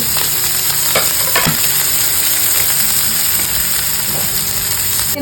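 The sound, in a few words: onion, garlic and chili sautéing in a pan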